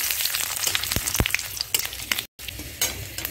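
Cardamom, cloves and a cinnamon stick fry in hot oil with a close, crackling sizzle. Sharp spatters and quick stirring scrapes punctuate the frying, and there is a momentary dropout partway through. No one speaks.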